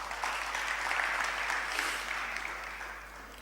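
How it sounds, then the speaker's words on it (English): A lecture audience gives a round of applause at a talk on Hindu Dharma, a soft, even wash of many hands clapping in a large room that gradually tapers off, with no voices heard. "So another round of applause for whatever he's done."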